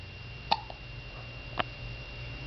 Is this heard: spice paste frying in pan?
no